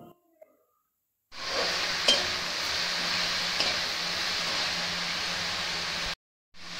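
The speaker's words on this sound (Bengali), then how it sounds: "সেই ব্রোকলিগুলোকে আস্তে আস্তে করে এর মধ্যে দিয়ে দিচ্ছি। একই সঙ্গে তো পেঁয়াজের সঙ্গে ভালো করে আমরা এটাকে আমরা রান্না করে নেবো" Broccoli sizzling with onions in a hot pan, a steady hissing fry that starts abruptly after a quiet pause, with a couple of soft clinks of a spoon, then cuts off near the end.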